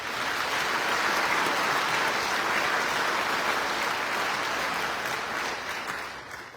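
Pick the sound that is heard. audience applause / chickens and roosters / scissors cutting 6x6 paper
audience applause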